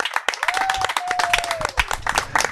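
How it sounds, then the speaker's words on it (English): Lively clapping from an audience at a Bali tourism and investment chamber gathering, with sharp hand claps, a whistle-like cheer and crowd voices mixed in. "a round of applause for our guests."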